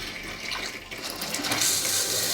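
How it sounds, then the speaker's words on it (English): Water gushes from a faucet after the valves are opened on a camping setup, a loud continuous rushing flow with sputtering from air in the line, heard alone. "Let's see if we got some water here."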